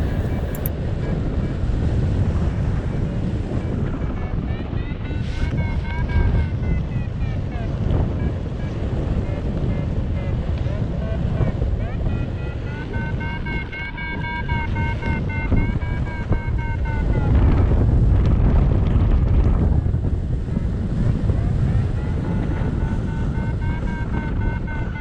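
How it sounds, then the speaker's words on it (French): Strong mountain wind in the Queyras rumbles and buffets the microphone in a loud, continuous roar, with gusts swelling and easing and faint whistling tones rising and falling over roughly twenty-five seconds. "la brise de Seillac, c'est du 20-25 km/h aisément à cette heure-ci."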